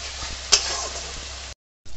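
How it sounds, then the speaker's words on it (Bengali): Ginger garlic paste sizzles steadily in a hot pan and is stirred with a sharp scrape, close and constant, broken by a brief cut to silence before the frying resumes. "আদা রসুনটা ভাজা ভাজা হয়ে গেছে"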